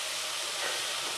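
Leeks gently sauté in a pan, giving a steady, soft sizzling hiss with no pauses over a short stretch.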